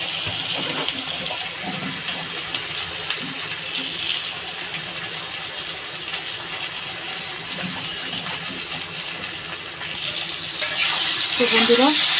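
Taro and hilsa curry frying and being stirred in a pan, a steady broadband sizzle with scraping strokes throughout, swelling louder near the end.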